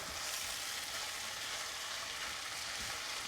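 Garlic and freshly grated ginger fry over fairly high heat in a pan, giving a steady, dense sizzle that hisses evenly throughout, with no talking.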